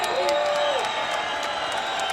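A UFC arena crowd cheering and applauding after a fight, a steady broad roar of clapping and shouts at a distance, with a voice talking over the top early on.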